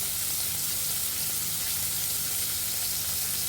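Fresh local prawns sizzle steadily in a hot pan, a dense continuous frying hiss with light stirring noises, close and unbroken for the whole stretch with no voices.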